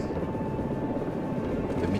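A helicopter flies on a rescue mission in the video game VME, with a steady close rotor and engine drone filling the scene without a break.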